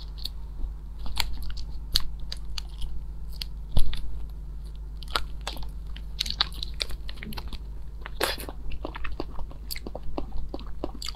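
Crunchy cookies are bitten and chewed right at the ear, with sharp irregular crunches and quieter chewing in between, and no talking.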